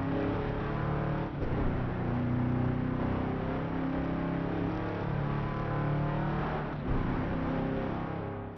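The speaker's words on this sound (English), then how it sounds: "listen now to the engine" A racing car engine roars continuously, pitch rising and falling as it revs through gears, loud and close with no talk.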